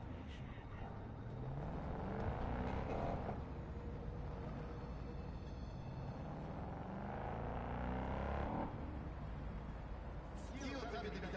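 A car in the video game Cyberpunk 2077 drives with a steady engine hum and road rumble, with speech over the drive throughout.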